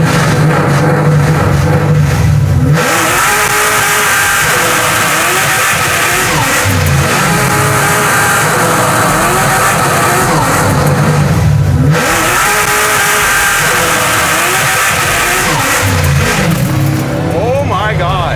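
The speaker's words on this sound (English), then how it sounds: "This truck is unbelievably loud and does stupid good burnouts." A supercharged Chevy C10 truck roars through a burnout, its engine revving hard in long loud surges with brief drops between pulls, harsh and close, joined by tire squeal and a few excited voices.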